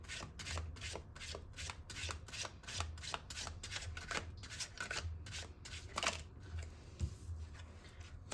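Tarot cards shuffled steadily, a fast rhythmic run of riffling flicks and rubbing sweeps that keeps going, close and moderately quiet, with no talking.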